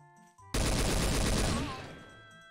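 Rapid automatic gunfire from the video game Trouble in Terrorist Town erupts suddenly as a loud, dense burst of shots, then fades into a ringing tail.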